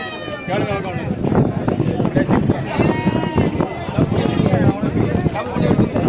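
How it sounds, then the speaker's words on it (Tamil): Red rams at a Tuesday livestock market bleat repeatedly and loudly up close, amid crowd chatter and people talking nearby. "இன்றைக்கி செங்கடாய் கொண்டு வந்துருக்காருங்க கோயிலுக்கு"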